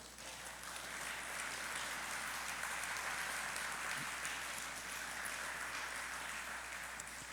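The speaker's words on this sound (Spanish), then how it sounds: "Dale un aplauso al Rey de Reyes." A church congregation applauding during a Spanish-language sermon, a soft, steady wash of many hands clapping at a distance, continuous and fairly quiet throughout.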